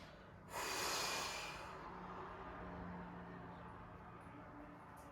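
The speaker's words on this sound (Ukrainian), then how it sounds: "Вдих." A single deep inhalation during a breathing and abdominal exercise, a sharp close intake that fades into a long, quiet hiss with low background hum.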